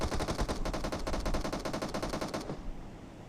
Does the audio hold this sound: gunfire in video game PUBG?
yes